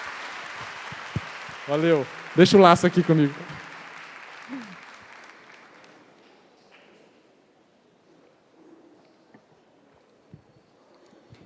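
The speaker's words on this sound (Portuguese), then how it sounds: "Uma salva de palmas para os assistentes aqui." Audience applause for the assistants at a Canção Nova gathering, a broad wash of clapping that fades out over several seconds while someone speaks Portuguese briefly over it.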